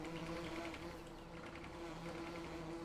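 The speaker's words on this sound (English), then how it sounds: "2 hives full of bees" Bees buzz steadily around two honey-filled hives on a farm in a farming video game, a continuous close drone holding at an even level with no talk.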